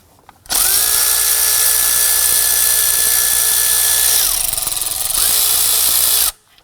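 A power tool loosens 10mm bracket bolts near the AC compressor on a 2003-2014 Volvo XC90 engine, giving one loud, close, steady whine for about six seconds that dips in pitch near the end before stopping.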